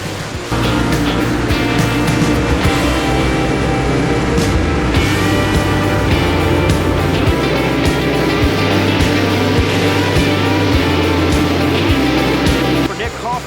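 Race cars roar down the back straightaway of a short racetrack, a loud, continuous engine drone that holds steady throughout, close to the microphone, with commentary running underneath.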